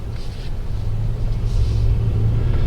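Mercedes-AMG GLC63s Edition 1 SUV with its engine and exhaust revving: a steady, loud low rumble that builds slightly over a couple of seconds, with no talk.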